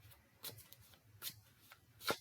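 Soft shuffling of a new, slightly sticky tarot deck, a few quiet riffling bursts separated by pauses, close and faint.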